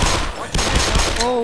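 Bursts of gunfire rattle through a firefight in the Half-Life remake Black Mesa, loud and close, with dense overlapping shots and explosive noise and a voice briefly heard over the din.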